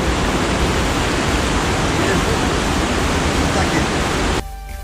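Steady broadband rush of cold water pouring from the original thermal spring fountain near Jaca in the Pyrenees, loud and continuous, close by, dropping off abruptly near the end.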